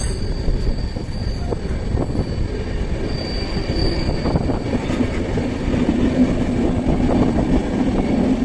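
A train travelling through a tunnel rumbles on continuously, with a high metallic wheel squeal rising briefly partway through and the rolling noise staying loud and close throughout.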